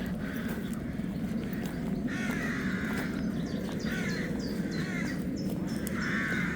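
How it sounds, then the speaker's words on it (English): Crows caw repeatedly in woodland beside a theme park, several harsh calls spaced through the clip over a steady rustling background, moderately near. "Full of crows."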